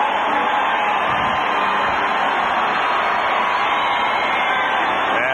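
A sellout stadium crowd at a 1989 AFC playoff game between the Pittsburgh Steelers and Houston Oilers roars after a game-tying touchdown, a steady, far-off wash of cheering that stays level throughout, with a broadcast voice faintly underneath.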